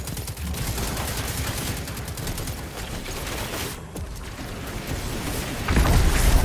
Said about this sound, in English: you can stop the shooting